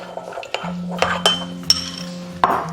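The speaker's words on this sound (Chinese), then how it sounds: "加入少量玉米淀粉，倒入一丢丢清水，搅拌均匀" A spoon or chopsticks stir beef with a little corn starch and water in a bowl, giving a few scattered clinks and scrapes of metal on a dish against a faint steady hum.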